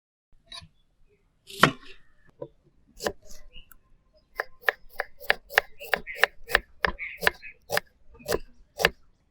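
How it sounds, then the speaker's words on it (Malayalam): A knife chops onions on a board during Kerala chicken curry prep: a few scattered cuts first, then a quick, close run of sharp evenly spaced chops with no talking. "നമുക്കിനി ഉള്ളി അരിയാം."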